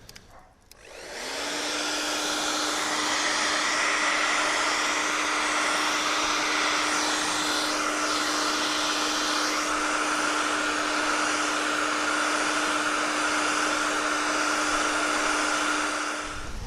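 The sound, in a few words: heat gun heating VW badge on car bonnet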